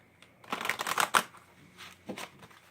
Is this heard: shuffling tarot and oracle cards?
yes